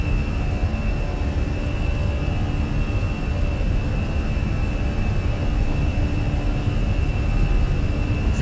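Steady, loud roar of Airbus A320 engines at takeoff power in Microsoft Flight Simulator, a continuous broadband rumble with a faint tonal whine and no speech.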